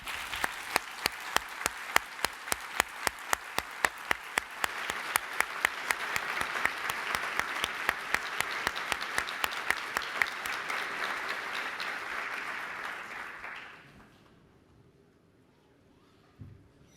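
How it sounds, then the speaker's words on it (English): An audience at a technology summit applauds Dr. Kissinger with dense, sustained clapping and some sharp individual claps standing out; it fades to near silence after about thirteen seconds. "just a round of applause for Dr."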